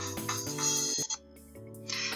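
A cell phone message alert plays in the Anime Studio Simulator video game, a short electronic ringtone-like jingle of layered tones over game music, steady and moderately quiet for about two seconds.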